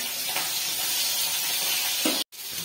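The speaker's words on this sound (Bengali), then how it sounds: "যে মাছটাকে ভালো করে ধুয়ে নুনুর মাখিয়ে রেখেছি, আর এখানে ভাজছি" Salted fish pieces frying in hot oil in a home kitchen: a steady, loud, close sizzle with bubbling hiss throughout, briefly cut off by a short dropout before the frying resumes.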